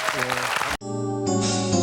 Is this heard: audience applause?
yes